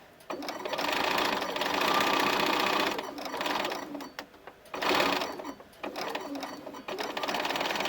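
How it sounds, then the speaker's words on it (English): A sewing machine chain-sews strips of bias tape together one after another: loud, close bursts of rapid stitching, broken by short pauses where the presser foot is lifted and the next piece is fed in. "What I like to do is just continually sew them together, one at a time."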